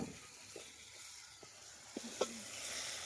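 Paneer biryani ingredients, including coriander, sizzling quietly in a pan, with a soft steady hiss and a few faint clicks and stirring knocks.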